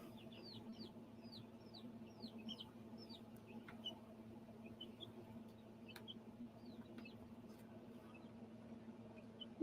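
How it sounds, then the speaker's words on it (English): Chickens cluck in a quick, repeated run of short calls, fairly distant and soft over a low steady hum, with a few sharp clicks scattered throughout. "the chicken"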